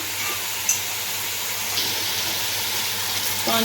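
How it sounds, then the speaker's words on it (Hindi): Steady gentle splashing of about a litre of water pouring into a pot of beef nehari, a soft continuous stream with a brief clink near the start. "इसमें तकरीबन 1 लीटर पानी ऐड करना है"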